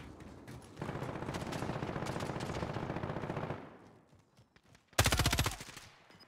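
Automatic gunfire in Call of Duty Warzone rattles in a long sustained burst followed by a short pause and a second loud close burst.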